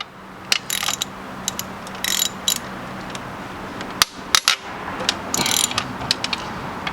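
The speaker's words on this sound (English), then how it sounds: "use a ratchet, loosen them up, and then we'll use the electric one." Ratchet loosening bolts on a Cummins engine intake: quick bursts of clicking pawl ratcheting come in several short runs with brief pauses, close and fairly loud over a steady shop hum.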